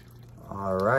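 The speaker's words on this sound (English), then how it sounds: "Now, you're going to want to go ahead and add your water to them." Water is poured onto dry ramen noodles, a faint start that swells into a rising, hollow pouring tone in the second half as the container fills.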